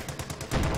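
Stuart light tank firing in Company of Heroes 2 during a 1v1 match, a fast run of sharp gunfire bursts repeating at an even rhythm over battle noise, louder and denser toward the end.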